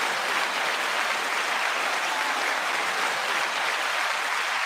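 Dense, steady applause for the winners, a loud, even roar of many hands clapping close by with no voices over it.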